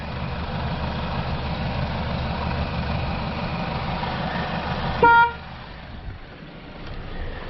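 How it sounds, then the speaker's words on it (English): A single short car horn honk from a 2012 Buick Verano sounds sharply over a steady idling engine rumble. "Got 1 horn honk."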